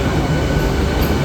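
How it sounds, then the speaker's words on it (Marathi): A Mumbai local train at a station platform in the evening gives a loud, close, continuous rumble and roar with a steady rolling rail noise throughout and no speech. "आता बघतोय कोणती ट्रेन लागली ती."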